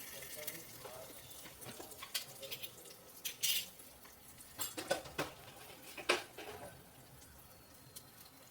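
Bhagar (barnyard millet) is stirred in a pan, with a spoon clinking and scraping against the metal in scattered bursts over a soft, faint frying hiss.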